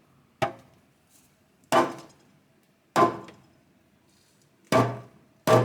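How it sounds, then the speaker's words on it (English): A mallet strikes a loose engine oil pan five times at irregular intervals, each a sharp, close, resonant metallic thunk that quickly dies away, with near silence between blows. "Now if I hit it with a mallet,"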